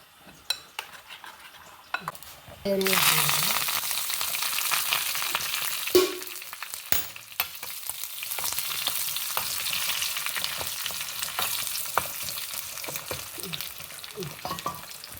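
A dry tempering sizzles sharply as it hits a hot pan for wild mango gojju, a sudden loud burst of frying that settles into steady crackle with occasional clinks of a spoon against the pan.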